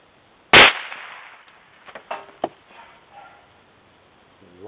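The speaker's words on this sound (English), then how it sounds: "I want to test out that separator ammo. There's a can down there." A single loud, sharp .22LR rifle shot using CCI segmenting rounds fired outdoors at a can, followed by a few fainter impact and echo sounds trailing off.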